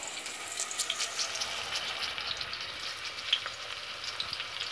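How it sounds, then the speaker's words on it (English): Onion fries in a pan for a Kenyan githeri stew, a steady close sizzle with scattered pops and crackles and occasional stirring, with no voices. "So as the onion continues cooking,"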